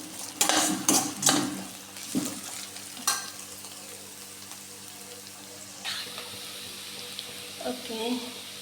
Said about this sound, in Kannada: ಇಲ್ಲಿ ಆನಿಯನ್ ಫ್ರೈ ಹಾಕ್ಕೊಂಡು ನೋಡುವ.